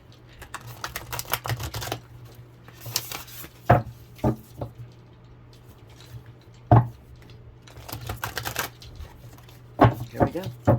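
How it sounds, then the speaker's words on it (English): Tarot cards are shuffled in bursts of rapid riffling and slapping, close and crisp, with pauses between shuffles and occasional talk in the background. "I'm trying to shuffle pretty good."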